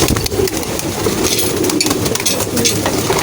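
Male pigeons moving about a rooftop loft with its trapdoor open at feeding time, giving a steady close flutter and soft cooing against a noisy outdoor background.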